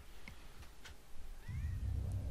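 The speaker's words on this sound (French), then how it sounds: "y'a un chat qui miaule là" A cat meows faintly during a French DOOM play session, a few brief, high-pitched calls that rise and fall over low background rumble.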